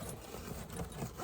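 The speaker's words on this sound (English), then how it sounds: "Both sides have zippers that go up and around the top." A zipper on a cheap gym bag is pulled along in one quick, close, scratchy run, faint overall with a rasping texture.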